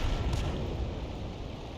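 The M44 self-propelled gun in World of Tanks fires with a heavy, deep artillery boom at the start, followed by a long rumbling decay that stays loud and low throughout.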